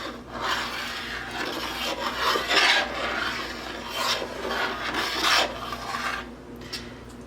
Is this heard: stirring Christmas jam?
yes